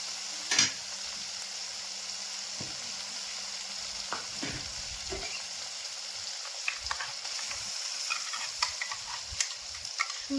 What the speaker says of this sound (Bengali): এবার আমি পালং শাকের পেস্টটা আমি ঢেলে দেবো